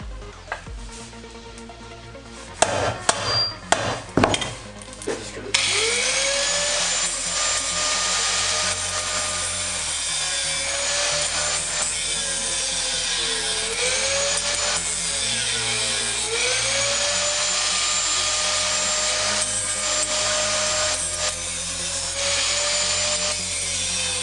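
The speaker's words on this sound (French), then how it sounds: "maintenant je vais m'attaquer à disquer le centre pour pouvoir élargir le trou" Angle grinder disc cutting into the metal center of a Suzuki Jimny JB43 rear wheel hub, a loud continuous high whine with pitch sweeps as the disc bites, after a few sharp knocks and clanks at the start.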